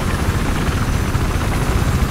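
A helicopter gunship in Battlefield 4 gives a loud, close, continuous rotor thrum with a heavy low-end engine roar that stays steady throughout.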